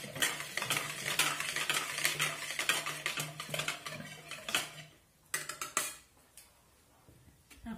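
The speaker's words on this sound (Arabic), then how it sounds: "غنحرك مزيان" A spoon stirs milk, cornstarch and dates in a pot for a sugar-free date dessert, rapid clinking and scraping strokes up close that slow and thin out toward the end, with no voices.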